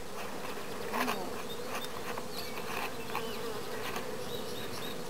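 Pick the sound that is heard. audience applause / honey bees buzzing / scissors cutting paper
honey bees buzzing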